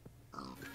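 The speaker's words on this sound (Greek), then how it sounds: "Γουρούνι!" Minecraft pig in a Skywars match giving a couple of short nasal grunts, close and clear, with faint game noise around them.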